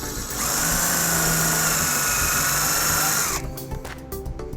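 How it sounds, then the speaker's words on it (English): A power drill with a 1/4-inch socket drives a self-tapping screw into a trailer wiring bracket on a 2017 Hyundai Santa Fe, whining steadily for about three seconds before stopping abruptly into faint clicks. "using a 1/4-inch socket we'll put our self-tapping screw into place."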